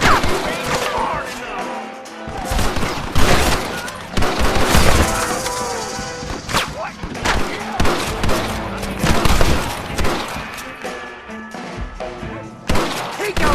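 Rapid gunfire crackles almost nonstop through a Red Dead Redemption shootout, dense volleys of loud close shots and thuds layered over music, with heavier bursts clustering midway and near the end.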